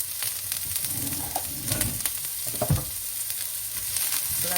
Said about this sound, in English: I'm going to add the onion, the garlic, the ginger to the pan and stir to combine